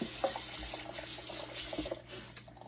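Fresh pole beans washed under running tap water at a sink, a soft continuous splash and trickle with light rattling as the beans are handled, close but quiet, no talking.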